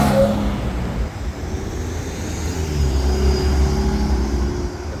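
A sports car engine rumbles steadily on the historic village Main Street of Oyster Bay, New York, mixing with the broad wash of roadway noise, near and fairly loud, with no speech.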